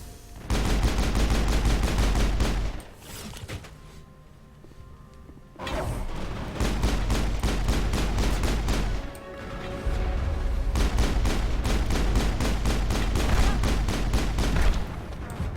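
Heavy gunfire in the Mass Effect video game, sustained rapid automatic bursts with short pauses, loud and close, mixed with crashes and booming impacts, with barely any talk.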